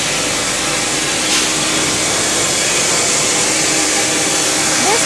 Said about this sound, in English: Sizing machine.